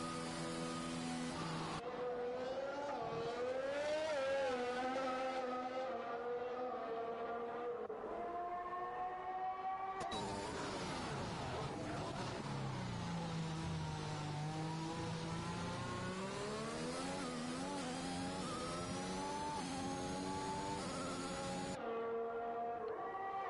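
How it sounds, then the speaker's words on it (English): An Aston Martin Formula 1 car in F1 2021 at the Italy circuit, its high-pitched engine whining steadily up and down through gear changes, loud and sustained for over twenty seconds with no speech. "there's one of the Aston Martins heading out on track"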